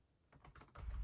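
Keys clack on the CHUWI Herobook Pro laptop keyboard, a short burst of several quiet, quick taps that grows slightly louder and ends on a heavier thump.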